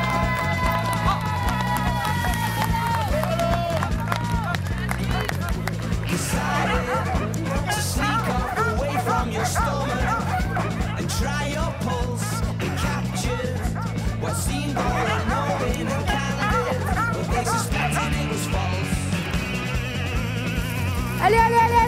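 Sled dogs barking and yipping at a race start line with a crowd cheering, set under loud rhythmic music that runs throughout.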